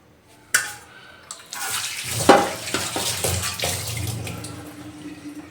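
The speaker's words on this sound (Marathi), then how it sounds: "सगळ्यात आधी आपल्याला हे झाकण ओलं करून घ्यायचं आहे" Water runs and splashes onto an aluminium container lid at a sink in a short, uneven burst of wet splattering. It rises and fades over a few seconds, with a sharp knock near the start.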